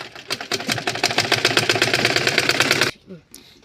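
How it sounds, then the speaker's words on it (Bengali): Sewing machine stitching the corners of cloth for a pajama with beadwork design, a rapid steady mechanical chatter of needle strokes running loud and close for about three seconds before stopping abruptly. "এইভাবে আমি সবগুলো এখন একটা একটা করে সেলাই করে নেব।"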